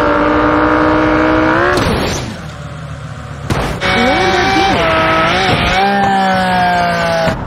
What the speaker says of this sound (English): BMW versus Giant Crater.